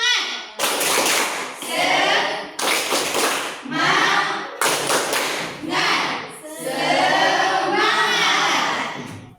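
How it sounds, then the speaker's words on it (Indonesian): Schoolchildren in a classroom doing the tepuk semangat clap chant, bursts of loud group clapping alternating with chanted words, repeated in several rounds, close and energetic. "Ibu bilang tepuk semangat."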